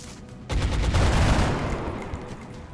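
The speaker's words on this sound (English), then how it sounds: "like, shoot the SMG" A sustained burst of SMG fire in XCOM Long War erupts suddenly and rattles loudly for about a second, then trails off into a long rumbling decay.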